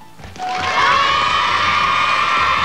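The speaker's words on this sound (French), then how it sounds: "On les applaudit fort." A crowd bursts into loud, sustained cheering and clapping that swells quickly and holds steady.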